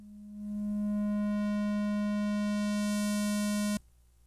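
A steady, buzzy synth tone from an Electribe 2 runs through a high pass filter, swelling in over the first half second. It holds loud and even for a few seconds, then cuts off abruptly, leaving a faint hum.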